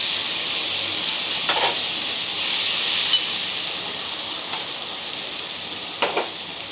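Poppy seed and chilli paste hitting onions already fried red in a pan, giving a steady, close hiss of sizzling oil that holds throughout with a few faint clinks along the way.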